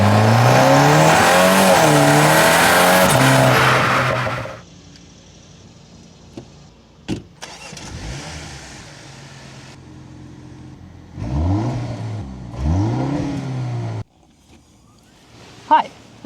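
A 2026 BMW M235 Gran Coupe engine revs loudly for several seconds, then drops off; later, a few shorter revving bursts rise and fall between quieter stretches.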